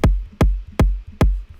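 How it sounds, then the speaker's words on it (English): Four punchy electronic kick drum hits in a bass house track, in an even, steady pulse, each with a sharp click and a deep booming tail, loud and dry. "Nice and punchy kick there."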